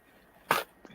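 A single sharp sneeze bursts out close to the microphone, followed a moment later by a fainter short sound, in an otherwise quiet indoor room.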